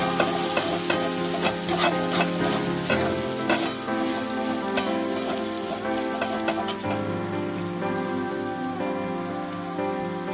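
Grated ginger sizzles steadily in hot oil in a home kitchen pan while being stirred, with a continuous crackle and scraping heard up close over a faint tonal background and no talking.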